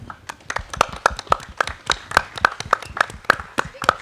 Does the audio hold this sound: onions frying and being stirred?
no